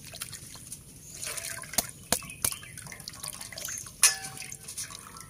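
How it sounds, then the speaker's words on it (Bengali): Palm fruits being washed in water in a bamboo basket, with close splashing, dripping and trickling, plus a few sharp knocks as the fruits are handled. "তালগুলো ভালো করে ধুয়ে নিলাম জল দিয়ে।"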